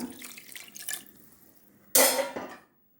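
Water trickles and splashes into a pressure cooker, then a sudden louder pour gushes for about half a second before stopping.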